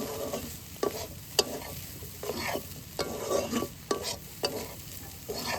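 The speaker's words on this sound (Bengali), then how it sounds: "এখন গোলমরিচের গুঁড়োর সঙ্গে পুরটা ভালোভাবে মিশিয়ে নেব" Potato and egg roll filling mixed with ground black pepper in a pan, stirred in repeated scrapes with sharp utensil taps against the metal over a quiet background sizzle, close by with nobody speaking.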